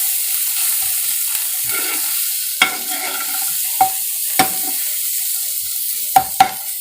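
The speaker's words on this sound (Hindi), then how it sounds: "आधा चम्मच गरम मसाला डाल के इसे भून लेंगे 1 से 2 मिनट तक" Egg bhujiya masala with onion, tomato and garam masala fries in a pan with a bright, continuous sizzle, broken by several sharp spatula scrapes and taps against the pan, with no voices.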